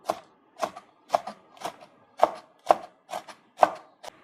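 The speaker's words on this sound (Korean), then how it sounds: "홍고추 반 개도 썰어줄게요." A knife chops half a red chili pepper on a cutting board in a steady run of about nine crisp, evenly spaced strikes, close and clear with no talking.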